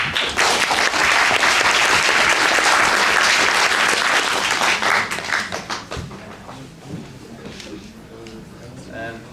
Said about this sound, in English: Can we just give Mark as well a round of applause?